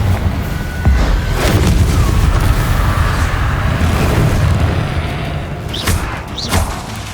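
A Confringo blasting curse from the game Hogwarts Legacy erupts in heavy, rumbling booms, with a deep sustained blast followed by a couple of sharper whooshing bursts near the end.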